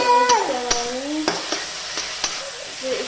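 Garlic-ginger paste sizzles in a hot pan for a karkalo (taro stem) curry while a spoon stirs it, with several distinct scraping strokes over a steady frying hiss.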